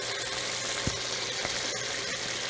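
A gluten-free flour roux sizzles in a hot pan, an even crackling hiss broken by a couple of soft stirring knocks, with no voices.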